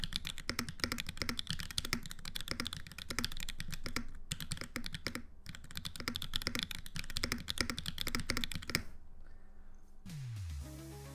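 Steady, rapid typing on a Mode Envoy mechanical keyboard with linear switches, ABS keycaps and no foam, close and continuous, with smooth muted key strokes and a brief different sound at the very end.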